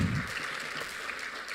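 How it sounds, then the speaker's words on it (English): Audience at a gala dinner and awards convention applauding, a brief steady patter of many hands at moderate level, with a low rumble at the start. "Please give yourself a round of applause"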